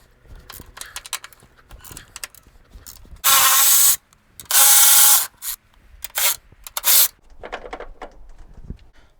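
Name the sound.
loosening and removing strut tower nuts and bolt on Toyota Tercel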